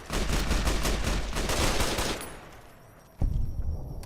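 Rapid automatic gunfire with 5.56 rounds in Fallout New Vegas, a dense burst of shots lasting about two seconds, then a lull and one sharp loud report followed by lighter rattling.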